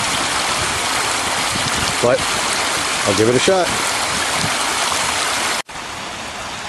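Creek water rushes steadily over rocks, a loud constant broadband flow close by, with a voice speaking briefly over it and a short cut near the end.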